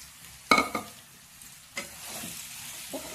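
Bottle gourd pieces dropping into hot oil with ginger-garlic paste and being stirred, a sudden loud sizzle burst followed by softer frying hiss and a second stir, close.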